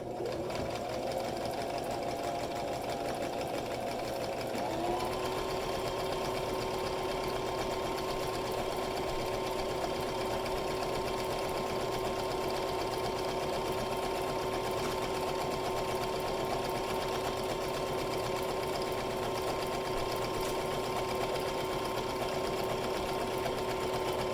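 Sewing machine running a steady continuous seam on a bag holder, close and even, with the motor pitch rising slightly after the first few seconds and holding for the rest.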